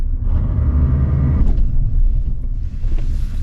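A Chevrolet S10 pickup accelerates off-road over an obstacle, a loud, close low engine rumble with a churning roar and a brief mechanical noise from the traction control working.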